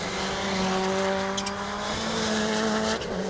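Rallycross cars at Lydden Hill in round 7 of the 2018 British Rallycross championship, engines droning loudly and steadily as they brake hard into a hairpin, with faint tyre scrub and no voices.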